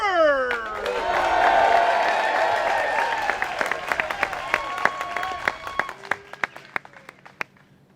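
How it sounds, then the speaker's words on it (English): Crowd at a disc golf world championship applauding and cheering, a rising wave of whoops and whistles that settles into scattered individual claps fading out, with a voice briefly over the start. "Great crowd. Everybody's excited."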